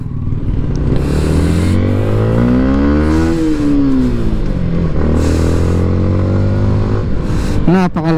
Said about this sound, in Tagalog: Napakalakas ng RPM ng motor na to